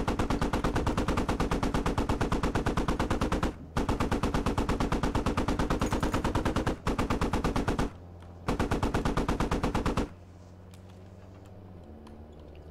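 Rapid video-game gunfire in long sustained automatic bursts, loud and close, broken by short pauses before trailing off into quieter ambient game sound; no talk over it.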